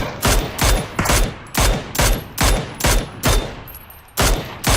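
Gunfire in a shooter video game, loud repeated bursts of shots in an even rhythm, roughly nine sharp blasts each trailing a short decay, with a brief gap before the last two.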